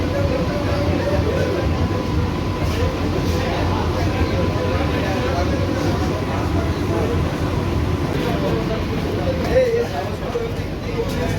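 Aboard a Sealdah AC local train at Duttapukur station, a steady rumble of the train and station fills the background while people talk nearby and a low hum runs underneath.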